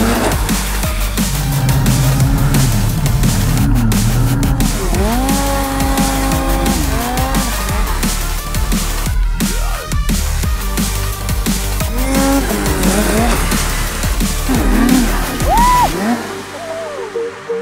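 Snowmobiles accelerating at full throttle, loud high-revving engines rising and falling in pitch as several machines pass close by in a continuous roaring stretch.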